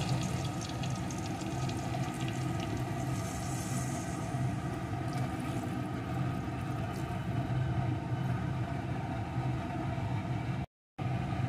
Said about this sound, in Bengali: এখন এর ভিতরে দিয়ে দেবো পরিমাণ মতো জল।